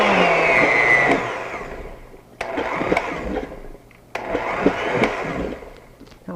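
Kitchen blender pureeing cream soup into baby food, run in three loud pulses of a couple of seconds each, the motor whirring up and cutting off between bursts.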